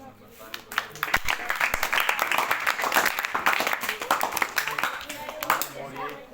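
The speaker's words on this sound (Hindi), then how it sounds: "ताली बजाइए" Students in a classroom clapping together, a burst of sharp, rapid, uneven hand claps from a group, close and lively, with voices mixed in among the applause.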